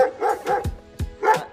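Dogs bark in a rapid run of about five close, loud barks at a family home, with brief gaps between them and no talk.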